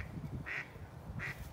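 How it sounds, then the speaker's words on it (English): A duck at a lake quacks twice, loud and fairly close, with a pause between calls, over soft outdoor background and no talking. "Yeah, duck, I hear you."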